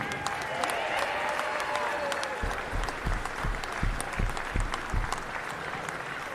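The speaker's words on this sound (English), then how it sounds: "Let's have one more round of applause for this dedicated group, the best table crew in the country." Crowd applause in a gym at a men's college basketball game between Illinois Wesleyan and North Park, sustained clapping with a run of sharp, close thumps in the middle and a voice talking over the start.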